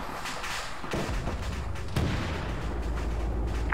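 Su-85 tank cannon fire in the Arma 3 video game during a World War 2 Soviet armor battle: a few distant booming shots and rumbling impacts over a steady noisy background.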